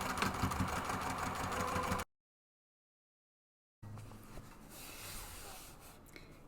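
A sewing machine runs steadily, stitching two rows along the top edge of a drawstring purse pocket, then cuts out for a short silence before a quieter stretch of machine hum with light rubbing of fabric.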